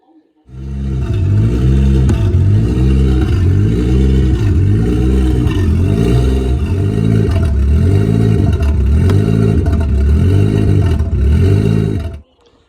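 A Toyota Aristo's 1JZ-GTE engine, freshly fitted with a five-speed manual swap, runs loud and steady on its first start, a low rhythmic idle with a regular pulsing beat and some clatter that holds for about twelve seconds before cutting off.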